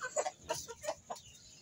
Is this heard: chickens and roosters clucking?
yes